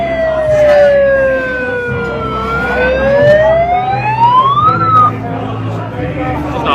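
A loud wailing emergency vehicle siren sweeps down and then up in pitch over a rumbling engine, close by and dominating the whole stretch, at a street rally in Liverpool.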